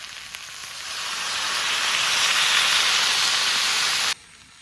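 Water poured into a hot pan of frying taro stems, potatoes and prawns, a loud rising sizzle and steamy hiss that holds steady for about four seconds before cutting off abruptly, close and with no talk.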